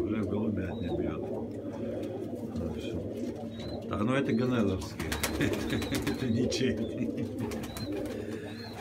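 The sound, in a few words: pigeons cooing in a pigeon loft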